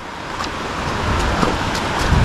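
Large waves break and wash onto the shore at a shore-casting fishing tournament in Odiongan, a steady, loud rushing surf wash with no voices.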